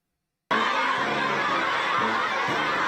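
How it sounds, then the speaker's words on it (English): A crowd of children cheering at once, including some holding small Chinese and American flags, a dense, steady roar of shouts and squeals that starts abruptly after a brief silence and holds at a constant loud level. "We get sound back when the children start cheering."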